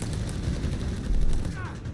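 Granatwerfer mortar rounds slam into an infantry squad during a Company of Heroes 3 match, a dense burst of booming impacts and crackling gunfire layered under a talking voice.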